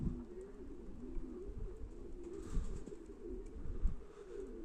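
Pigeons in a loft coo softly, their low throaty calls overlapping in a steady murmur close by, with a little background rustle and no speech.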